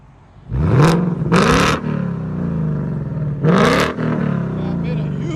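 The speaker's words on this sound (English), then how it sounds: "this is with the active exhaust open" 2020 Ford Mustang GT with an H-pipe exhaust and active exhaust valves open, revved twice in quick succession, then once more, each rev rising sharply to a loud snarl before dropping back to a burbling idle, heard close up.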